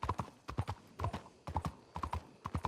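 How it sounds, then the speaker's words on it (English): Hooves of a horse in a Red Dead Redemption roleplay game clip-clop in a steady, quick rhythm, fairly faint and continuous throughout. "Why is there a horse over here?"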